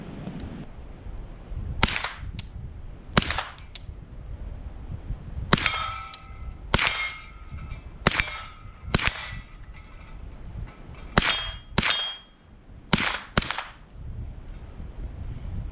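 About a dozen sharp gunshots from a 9mm AR rifle firing 115 grain supersonic rounds, singly and in quick pairs (binary mode) with short pauses, loud and close.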